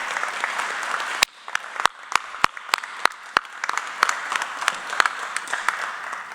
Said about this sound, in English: How about a round of applause for class 251?